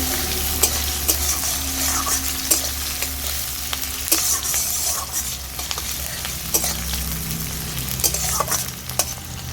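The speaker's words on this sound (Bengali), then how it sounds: "এবার দিয়ে দেবো কুচনো পেঁয়াজ। হালকা নেড়ে চেড়ে নিচ্ছি।" Chopped onions stirred and fried in oil, a steady loud sizzle punctuated by frequent clinks and scrapes of a spatula against the pan.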